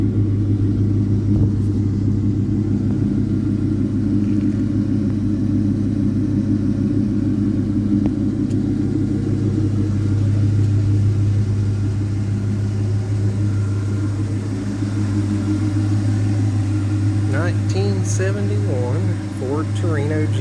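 A 1971 Ford Torino GT Cobra with a 351 four-barrel V8 idles steadily, its deep low rumble loud and close and unchanging, with faint talk near the end.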